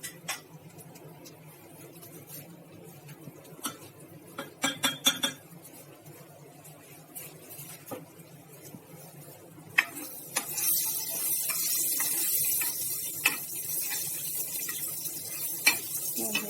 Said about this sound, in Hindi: सेक तेज करके जीरे को अच्छे से तड़का लेंगे।